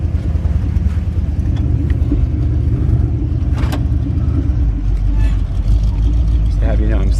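A 1978 Jeep CJ7 with a factory V8 and 4x4 is driven, its loud, deep engine rumble steady and close from the cabin, while a person talks over it.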